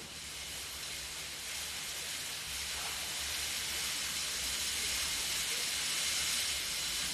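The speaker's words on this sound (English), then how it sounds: "Is that rain on the roof?" Rain drums on the roof of a snooker arena during a Players Championship quarter-final, a dense, steady hiss that slowly grows louder, with no talk.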